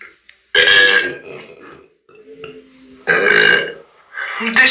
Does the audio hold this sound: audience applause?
no